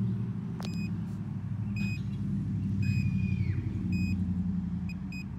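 An Amprobe AMB-45 megohmmeter runs a 500-volt insulation test on an HVAC compressor, giving short sharp beeps spaced roughly a second apart over a steady low rumble.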